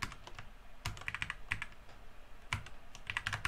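Close-up typing on a computer keyboard, a quick, uneven run of crisp key clicks in small clusters with brief pauses, under quiet room noise and with no talking.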